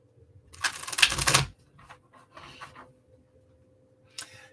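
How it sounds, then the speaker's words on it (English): Tarot cards slip and drop while a deck is handled: one loud papery flutter, then a few softer rustles and a final short slap. "I'm dropping cards"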